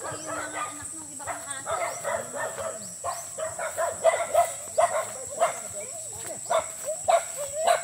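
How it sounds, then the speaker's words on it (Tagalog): Several shih tzu dogs at a rural hut bark in quick repeated bursts, a rapid irregular string of yaps at close range, with people talking underneath. "Ay, mga shih tzu niya."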